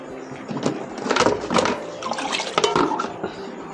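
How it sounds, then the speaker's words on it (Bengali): Hot water pours into a pot of rice and spices for Bengali khichuri, a close splashing and gurgling stream with uneven surges, with no voices. "এবার আমি জল দিয়ে দেব।"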